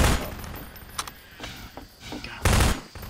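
Bursts of gunfire in the video game Half-Life 2 mod Mission Improbable, a few sharp shots and a louder volley near the end, with muffled background noise between.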